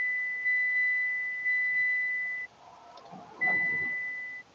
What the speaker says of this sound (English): Just wait for those beeps to stop